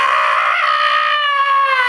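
A voice imitates a woman screaming in the shower, giving one sustained, high, strained shriek that holds steady for about two seconds and is heard alone, close and loud.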